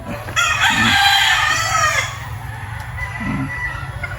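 A white Kelso street-breed stag rooster crows once loudly and close, a long drawn-out call, with faint farmyard background and a low steady hum underneath.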